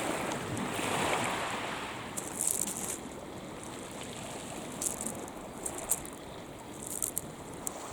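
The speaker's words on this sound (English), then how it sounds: "There is still an underlying swell." Ocean swell washing in under steady wind, a soft continuous roar with a few brief splashes and gusts, fairly distant and without voices.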